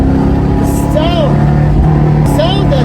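Toyota AE86 Hachiroku engine droning steadily at close range while driving, with a couple of rising pitch sweeps, heard beneath continuous talking.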